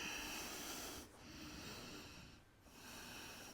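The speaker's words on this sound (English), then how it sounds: "Breathing." Heavy, close breathing during a yoga session: long hissing inhales and exhales with short pauses between breaths and no talking.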